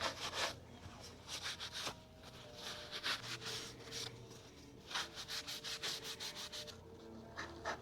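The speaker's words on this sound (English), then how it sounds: "Now we'll do some hand sanding with some 600 grit." Hand sanding on wood with 600-grit sandpaper, a steady series of short rasping strokes in quick rhythm, close and fairly quiet, with brief pauses between bursts.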